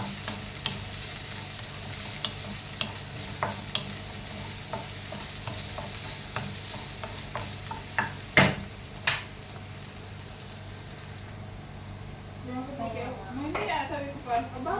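Garlic and onion stir-fry in a hot pan, with a continuous sizzle and a spatula or spoon clicking against the pan in a loose rhythm; a single louder clack lands midway, and a faint voice comes in near the end.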